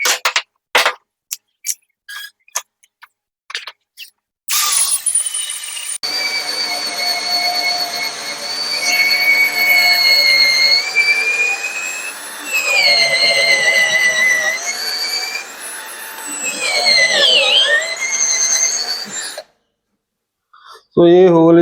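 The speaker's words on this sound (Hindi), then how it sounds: "इस हार्डवुड में मैं इसे होल करके देखता हूँ।" Drill in first gear boring a hole in hardwood, opening with a few sharp clicks before a loud, strained whine that holds for about fifteen seconds, its pitch dipping and rising under load, then stops.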